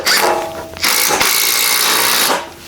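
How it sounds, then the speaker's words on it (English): An impact driver fitted with an 8mm bit whirs loudly and close as it fixes down a timber garden room frame, two sustained runs split by a brief pause, no talk. "I've got an impact driver with an 8mm bit in the end, and that will be perfect to fix these down"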